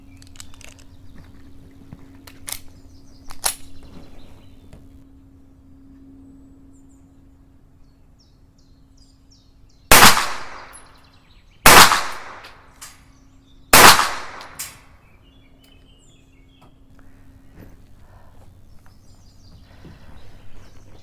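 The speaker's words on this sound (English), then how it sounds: "Even a well shot out Welrod is significantly quieter than a Glock 43 with a little B&T" Three loud, sharp pistol shots spaced about two seconds apart at an outdoor shooting range, normal 124-grain rounds from a Glock 43 with a B&T suppressor, each crack decaying quickly over a low steady background hum.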